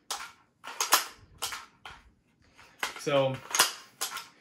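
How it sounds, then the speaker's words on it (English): Magazine released from an LWRC AR lower receiver using the left-side mag release: a series of crisp metallic clicks and clacks of the mag and lever, close up, with a brief spoken word partway through. "demonstrating the left side mag release"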